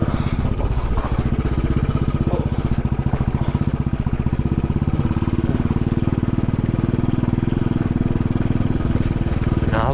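A Royal Enfield Bullet motorcycle climbs an uphill off-road hill track, its engine giving a loud, steady, close thumping throb that runs without a break for the whole stretch.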